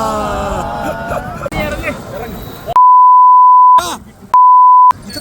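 Two long, steady, loud censor beeps cut across a friends' vlog recording, each lasting about a second, with voices talking before and between them.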